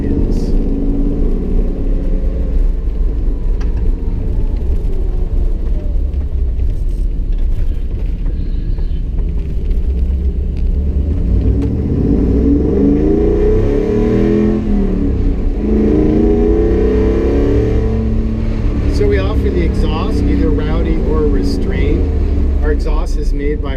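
Restored and modified Ford Bronco with a Borla TIG-welded brushed stainless exhaust, its engine droning and revving steadily at close range while driving in a park, with loud rises in revs around the middle and a voice talking over it.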